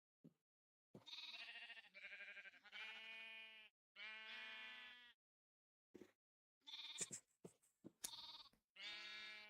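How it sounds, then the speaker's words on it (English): Sheep in a modded Minecraft skyblock game bleat repeatedly, several clear nasal bleats in short bursts separated by silences, close and distinct with no talk over them. "the baby sheeps are the ones eating all the grass"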